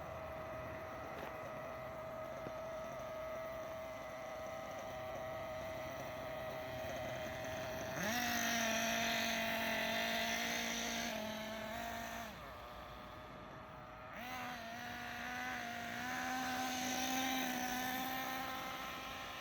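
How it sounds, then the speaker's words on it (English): A Kyosho Inferno NEO ST 3.0 RC car's nitro engine runs steadily with a droning, buzzing note that rises sharply on revving bursts and drops back toward idle between them. "the engine is not cutting out when we apply full brakes"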